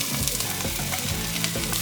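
Pumpkin sizzles and fries in a hot pot, a close, steady crackling hiss with small popping bursts running unbroken throughout.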